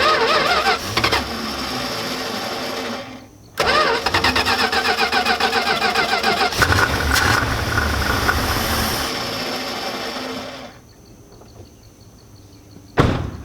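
A carburetted engine with the choke fully closed cranks and tries to start, electric fuel pump unhooked, rough loud churning for several seconds with a brief cut, then a quieter lull and a final sharp burst.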